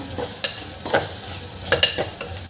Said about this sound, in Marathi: आणि हे छान मिक्स करून घ्यायचं आपल्याला